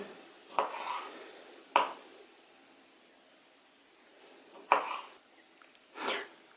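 Knife slicing cherry tomatoes in half on a board while a salad is made, four sharp separate cuts spaced across a quiet stretch, close and moderately loud.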